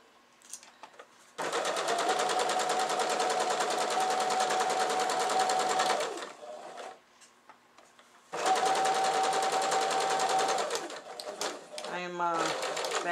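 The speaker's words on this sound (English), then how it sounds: "Now I'm going to go and sew them. We're going to sew 3/8 of an inch." A sewing machine stitches 3/8-inch seams on a cushion cover in two loud, sustained runs separated by a brief pause, with a voice speaking briefly near the end.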